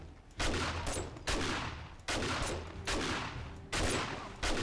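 Gunfire in the zombie survival game 7 Days To Die: five or six loud, sharp bursts spaced roughly a second apart, each cracking sharply and then trailing off into a long rumbling echo.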